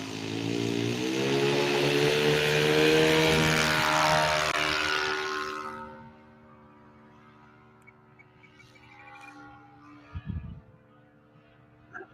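A propeller-driven RC model airplane buzzes loudly overhead with a steady whining engine, then its sound drops to a lower, quieter idle hum as it comes in to land, with faint background noises near the end.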